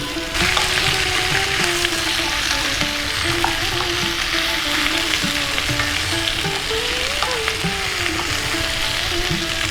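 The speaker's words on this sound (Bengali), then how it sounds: "বাঁধাকপিটা দিয়েও একটু ভালো করে নাড়িয়ে চাড়িয়ে ভেজে নেব।" Cabbage stir-fried in a pan for a Bengali mixed vegetable dish, a steady loud sizzle of frying throughout with occasional scraping of the spatula as it is tossed.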